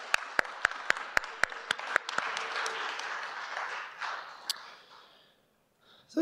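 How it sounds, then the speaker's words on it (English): Audience applause for sponsors at a security conference closing ceremony: a few sharp, separate claps grow into a brief burst of clapping from the crowd, then fade to near quiet before a short rustle at the end. "So please give me a round of applause for all of our sponsors."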